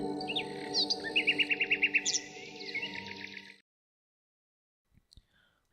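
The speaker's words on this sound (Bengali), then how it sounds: "আর এখন চারপাশে কেবল পাখিদের ফিরে যাওয়ার শব্দ" Several birds chirp and trill in quick, bright bursts at dusk in a village for a few seconds, then it falls nearly silent apart from a couple of faint clicks.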